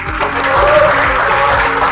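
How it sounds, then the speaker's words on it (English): Audience applause at a startup accelerator event in Hyderabad, a loud, dense burst of clapping from a crowd, sustained throughout without talk. "A big round of applause for them as well, please."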